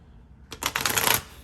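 A deck of tarot cards is riffled in one quick burst of rapid fluttering clicks, close and crisp, lasting under a second before stopping.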